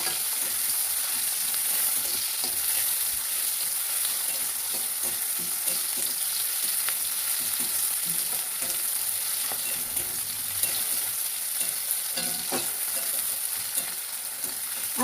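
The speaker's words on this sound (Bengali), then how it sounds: "এবার আমি দিয়ে দিলাম পেঁয়াজ দিয়ে আমি নাড়তে থাকবো।" Onions and crushed garlic frying in oil in a wok while being stirred, a continuous close sizzle broken by scraping stirs at irregular intervals, no talking.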